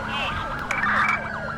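Wailing ambulance siren in GTA 5 police patrol gameplay, a loud rising-and-falling electronic tone sweeping repeatedly with steady traffic noise beneath.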